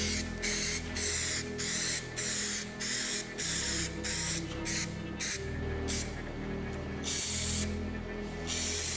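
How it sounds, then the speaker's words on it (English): Stone chip protector is sprayed from an aerosol can onto bare metal on a VW Vento (MK3 Jetta) project car, in a series of loud, close hissing bursts separated by short pauses. "to protect this bare metal here, is paint it with some stone chip protector"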